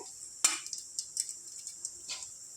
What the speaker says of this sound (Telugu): ఇందులో వేసుకుందాం ఇది ఒక ఫైవ్ మినిట్స్ ఫ్రై చేసుకుందాం ఆనియన్స్ని